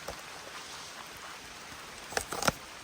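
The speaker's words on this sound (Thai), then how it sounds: "เมื่อกี้นะ่ะคือฝนตกหนักวันนี้ ตอนนี้เนี่ยเริ่มเบาลงเรื่อยๆ เลยนะครับ" Rain patters steadily as a heavy downpour eases off, soft and even, broken by a few sharp knocks near the end.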